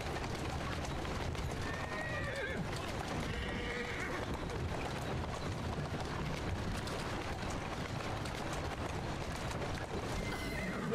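Horse in Assassin's Creed Syndicate whinnying a few times over steady clip-clopping hooves and carriage rumble, fairly quiet and continuous throughout.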